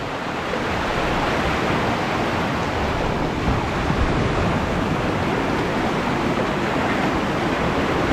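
Rough sea waves crash and wash against rocks, making a dense, continuous roaring surf at steady loudness with no voices.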